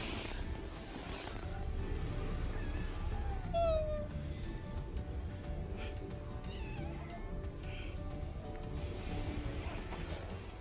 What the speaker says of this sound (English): You're such a pretty kitty.